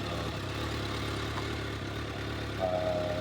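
A 2017 Kawasaki ZX6R 636 motorcycle with stock exhaust idling at a steady low putter, fairly quiet and even, with a brief thin whine near the end.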